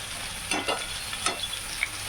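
Poppy seed paste (posto) fries in a pan with a low steady sizzle, punctuated by a few soft stirring scrapes and pops, close and quiet.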